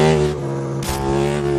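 A KTM Superduke 1390 motorcycle engine revs hard as the throttle is twisted in track mode with no electronic aids, a loud, close, sustained harmonic roar that swells midway and cuts off abruptly.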